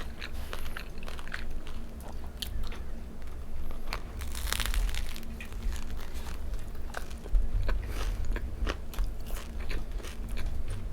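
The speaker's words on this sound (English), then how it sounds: "Did you hear the crunch of that bread?" Close, crunchy chewing of crusty deli bread at a meal in Saint Emilion, France, with steady crackling bites and crumbly crunches over a low room hum, no talking.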